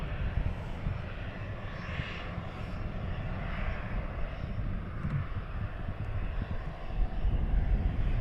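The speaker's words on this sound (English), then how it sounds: "There's your star of the show, guys. Dreamliner." A Boeing 787 Dreamliner arriving at Luton Airport produces a steady, distant jet engine roar with low rumble and some wind noise throughout, without speech.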